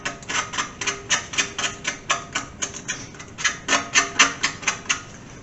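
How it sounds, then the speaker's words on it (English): A razor blade scrapes old window tint off car glass in short, rhythmic strokes, each a crisp, close scratch repeating about twice per second, with no talk over it. "I'm just chipping away at it with the razor blade"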